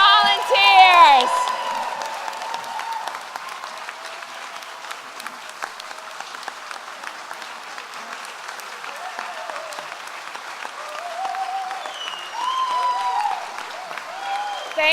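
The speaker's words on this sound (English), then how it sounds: "one last round of applause for our volunteers" Audience applause for volunteers at an evening awards ceremony, a sustained wash of clapping from a large crowd that swells at the start and again near the end, with scattered whoops and voices mixed in.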